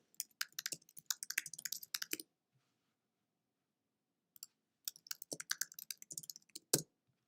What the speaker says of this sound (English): you all just have to watch me type for a minute